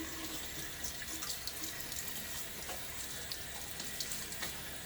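A bathroom sink tap runs at close range while water is splashed onto a face before a wet shave, giving a steady gushing flow with small splashes and spatters, no talking.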